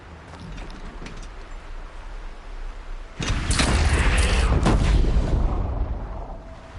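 An Oseram cannon fires in the video game Horizon Zero Dawn. A loud booming blast erupts midway and rumbles on for several seconds after a quieter stretch of ambient game sound.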